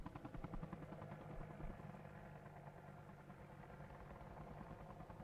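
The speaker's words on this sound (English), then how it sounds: "Keep an eye on that chopper." A helicopter flies close by in the military shooter game Squad, its rotor thumping in a steady, rapid pulse over a constant engine drone that stays loud and near throughout, with no talking.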